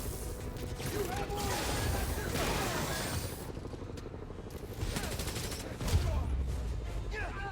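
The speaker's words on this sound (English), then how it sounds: "Firing on Spider-Man. Firing." Sustained gunfire in a street-side shootout in Spider-Man: Miles Morales, dense overlapping rifle bursts with crashes and clanks mixed in, loud and continuous, with voices calling out over it.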